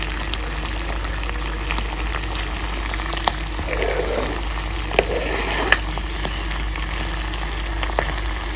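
Steady crackling sizzle of saag (leafy greens) frying in a hot pan, continuous and close, with a few soft stirring clatters partway through.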